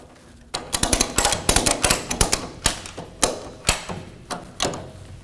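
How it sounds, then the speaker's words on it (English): Strap being tightened on a manual drum lifter rotator, a side-tipper unit holding a drum: a quick series of sharp ratcheting clicks and clacks, close and fairly loud, in irregular bursts over a few seconds. "Tighten the strap."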